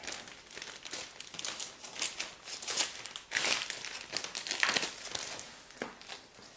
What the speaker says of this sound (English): let me put this other book back in its wrapper